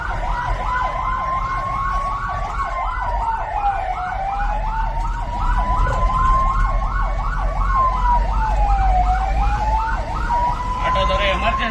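An ambulance siren wails in city traffic in Bengaluru while vehicles fail to give way. The loud rising-and-falling cycles repeat steadily and close for the whole stretch over a low rumble of engines.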